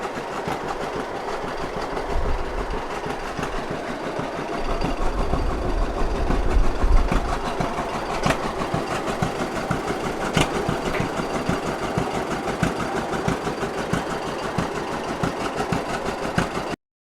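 A John Deere 801 tractor engine runs steadily with a dense, rhythmic idle chug, swelling briefly louder as it is revved, then settling back into an even mechanical rumble, close by with no talking.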